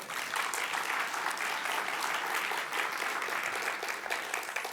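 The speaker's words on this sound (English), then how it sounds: "You can applaud." Steady, fairly distant applause from a programming conference audience, a continuous wash of clapping with no talking over it.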